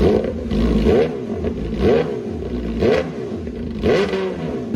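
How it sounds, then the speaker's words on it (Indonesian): MV Agusta inline-four motorcycle engine revved repeatedly, about five rising and falling throttle blips in a steady rhythm, loud and close, with no talking over it. "MV Agusta suaranya begini."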